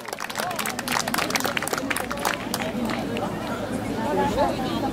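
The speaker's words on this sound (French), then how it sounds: "On applaudit très très fort." Audience at a dog show clapping and cheering after placings among a schnauzer, an Irish setter and a chihuahua, lively crowd applause mixed with chatter and babble, sustained and fairly loud.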